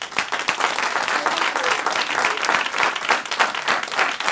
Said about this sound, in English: For instance, let's start clapping hands.